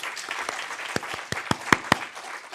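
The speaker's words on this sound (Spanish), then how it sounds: "No sé si oyes los aplausos, Frede, pero son para ti" Applause from an audience at a national rare diseases day event: a short burst of scattered, fairly distinct claps, a few louder hits standing out, moderately distant.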